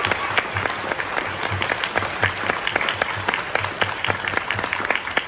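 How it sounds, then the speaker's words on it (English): Steady applause from a large audience at a Power Rangers reunion panel at a fan convention, dense overlapping claps with a few louder individual hands standing out, continuing at an even level throughout. "let's just give a round of applause for Jason Davis."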